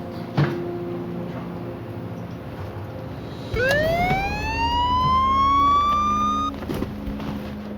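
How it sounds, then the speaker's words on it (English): A police siren fitted to a car winds up and wails steadily for a few seconds before cutting off, heard over a low engine rumble and background noise. "The car had been equipped with a police siren."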